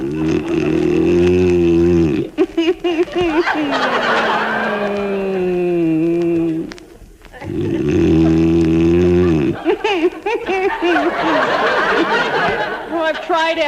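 A man snoring in an old radio comedy: long, loud, rasping snores in slow rhythm, with a voice exaggerating the snore, and speech in between.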